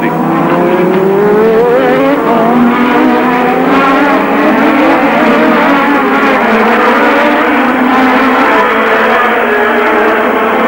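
A Formula 1 race car at the 1986 Spanish Grand Prix screams at full throttle, its engine note climbing and shifting through gears, loud and close, with other cars audible behind it and no voices.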